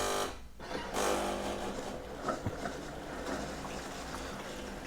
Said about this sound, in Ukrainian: Якщо чуєте, важкувато працює заварник